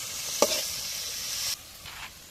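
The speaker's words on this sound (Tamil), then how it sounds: "வெங்காயம் வதவிச்சு தக்காளி கொஞ்சம் வதவுற வரைக்கும் வெயிட் பண்ணிக்கலாம்." Onions and tomatoes sauté in a pan during village cooking in Cuddalore, a steady close sizzle with a sharp clatter near the start, then fading to a softer hiss with a brief flare near the end.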